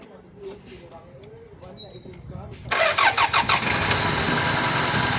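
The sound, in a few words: 1997 Toyota Corona engine starting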